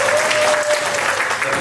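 Steady applause from an audience at a science organization's anniversary event as a presenter is welcomed on stage, dense and continuous clapping throughout, fairly loud and close.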